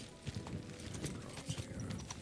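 Horse hooves clip-clop on the ground in the video game Kingdom Come Deliverance 2, a steady rhythmic stream of close hoof strikes over a busy low rumble.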